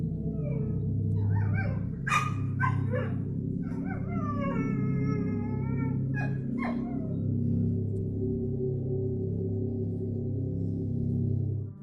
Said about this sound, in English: disturbed by her dog's persistent and agitated barking